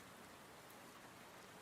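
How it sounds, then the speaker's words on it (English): Soft, steady rain patters against window glass on a calm, quiet evening, a continuous gentle hiss with no voices. "The nice soft sounds of the rain"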